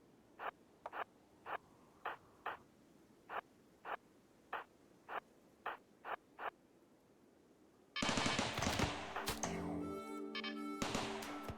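Turrets firing in RimWorld: eleven evenly spaced sharp shots ring out in a steady rhythm, then a sudden dense burst of clashing metallic, tonal combat noise takes over for the final seconds.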